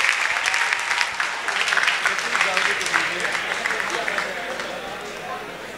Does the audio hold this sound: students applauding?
yes